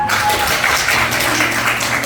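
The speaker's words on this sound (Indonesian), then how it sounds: "Oke, tepuk tangan." A classroom group claps together after a correct answer in a teacher-training session, a dense, steady patter of hands at close range throughout, with faint voices mixed underneath.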